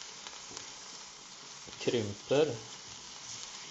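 Mushrooms frying in a pan with butter, a steady soft sizzle running throughout, with a brief spoken word over it.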